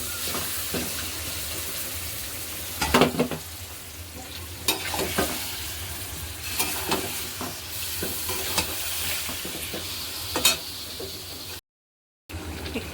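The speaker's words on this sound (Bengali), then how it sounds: "কাটা পেঁয়াজগুলো আমি এই গরম তেলের মধ্যে দিয়ে দেব" Chicken pieces and chopped onions fry in hot oil, a steady hiss of sizzling broken by the scrape and clack of stirring, close and fairly quiet, with a brief dropout near the end.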